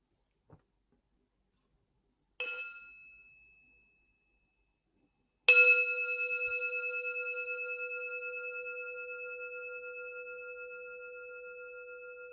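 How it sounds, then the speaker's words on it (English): A meditation bell is invited during a Dharma talk: a light tap first, then a clear ring that fades, and finally a full strike whose pure tone sustains and slowly decays across a quiet room. "Why don't we enjoy a sound of the bell?"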